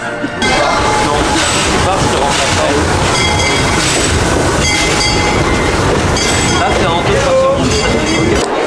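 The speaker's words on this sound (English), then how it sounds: "Now it's time for a ride on the Disneyland Railroad." Disneyland Railroad train at Disneyland Paris rolls along with a loud, continuous rumble and rhythmic clickety-clack of wheels on track, with voices chattering nearby throughout.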